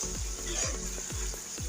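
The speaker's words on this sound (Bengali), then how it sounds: "আলুগুলো আমি 5 মিনিট কষিয়ে নিচ্ছি।" Potatoes and spices sizzle steadily in a pan, with a continuous close frying hiss and a few soft, regular stirring knocks.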